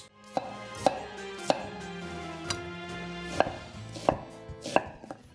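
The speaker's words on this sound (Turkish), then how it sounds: "Şimdi ben soğanlarımı kuşbaşına yakın birazcık kalın yemeklik doğrayacağım ki içerisine eriyip kaybolmasınlar." A knife chops onions into thick chunks for a stew, sharp regular strikes on a cutting board roughly every second, close and clear with no talking.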